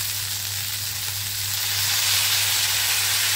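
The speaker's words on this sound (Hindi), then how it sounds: "प्याज भी थोड़े से फ्राई होते हैं" Onions sizzling and frying in a pan for a chilli raw jackfruit dish, a steady, even hiss that swells slightly louder partway through, with a low constant hum underneath and no talking.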